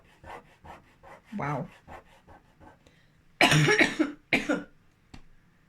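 Several coughs, first a string of soft, breathy ones, then a couple of loud, harsh bursts close to the mic, with quiet pauses between.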